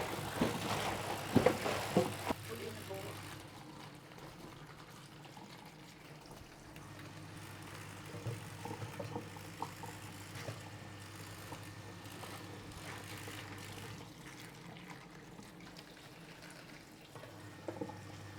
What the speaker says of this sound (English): we've got to rinse all that baking soda off those cabbage leaves